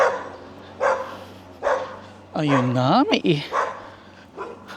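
A dog barks several times in short, spaced bursts around a person talking, with one rising yelp or whine in the middle, close and fairly loud.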